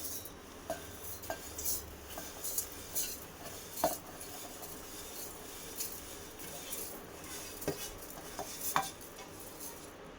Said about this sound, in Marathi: इथे मी एक मिक्सरचा जार घेतलाय याच्यामध्ये ही बडीशेप आपण काढून घेऊ